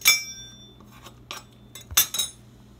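A spoon scrapes and taps against a container while levelling off baking powder, giving a few bright metallic clinks and short scraping strokes, close and clear, with quiet pauses between them.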